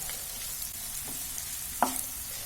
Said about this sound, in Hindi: इसको हल्का सा सौटे कर लेंगे।